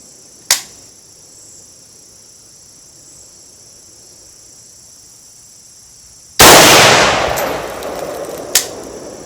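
Sharp gunshots from a Palmetto State Armory PSAK-47 rifle with a Primary Arms Gen II 3X compact scope: one isolated crack near the start, then a loud blast with a decaying tail and a final shot shortly after.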